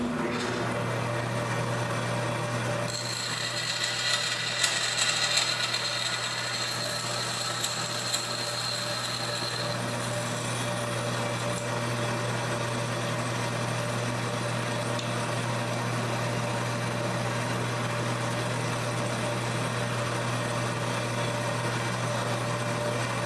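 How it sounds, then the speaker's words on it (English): Bandsaw cutting channels into the tops of wooden darts hums steadily with a low motor drone, while a brighter cutting whine rises for several seconds partway through and then fades back to idle. "it's just a simple matter of cutting it here on the bandsaw"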